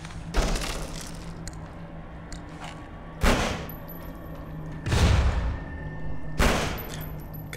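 Explosions in a video game: three heavy, booming blasts spaced a second or two apart, each with a short rumbling tail over a quiet background hum.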